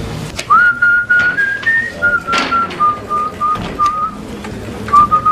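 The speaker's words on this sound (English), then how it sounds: "Whistling while doing paperwork, you need therapy" A person whistles a slow, wavering tune alone while doing paperwork in a TV police drama scene, with a few soft thuds and some background noise in the room.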